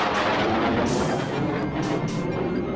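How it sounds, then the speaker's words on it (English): Spaceship main thrusters igniting as an audio drama effect for Atari Asteroids: a loud, continuous roaring rumble with crackling bursts, sustained steadily throughout with no voices. "Stand by for ignition. Ready? Fire main thrusters!"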